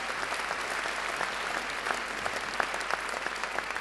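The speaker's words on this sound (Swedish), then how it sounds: "Värt en applåd." Audience applause fills the hall at the opening ceremony of the Gothenburg International Film Festival 2013, a steady, dense wash of many hands clapping with no voices over it.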